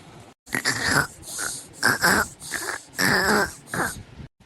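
A person lies asleep, snoring loudly and close by. Raspy, wheezing snorts come in a steady series of bursts, with short pauses between them.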